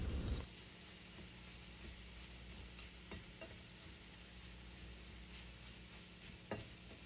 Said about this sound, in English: The crab meat is cooking, everything's getting incorporated, the butter's melting